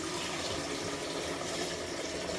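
Tap water runs steadily into a cooking pot, a loud continuous gushing splash close by with no talking over it.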